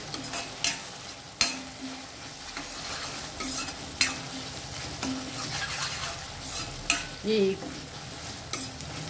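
Ginger garlic paste frying in a pan for a potato curry, with a steady low sizzle and sharp clinks of a spoon stirring against the pan.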